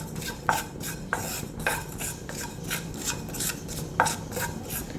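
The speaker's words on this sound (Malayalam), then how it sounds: "എടുക്കാതെ ഇളക്കി കൊടുക്കണം ജീരകം നല്ലപോലെ ഒന്ന് മുരിഞ്ഞ് വരണം" Cumin seeds roasting in a pan, stirred with a utensil in a steady rasping, scraping rhythm, with a few sharper clinks against the metal, close and alone without talk.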